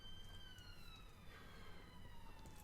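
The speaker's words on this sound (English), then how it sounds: "Seems like there's an ambulance outside" An ambulance siren wails outside in the distance, faint and steady with sweeping tones, heard behind an indoor setting.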